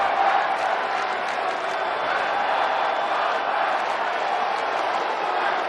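A capacity crowd at Petco Park for a Reds vs Padres baseball game roars steadily, a dense wash of cheering voices that holds at a constant loud level throughout.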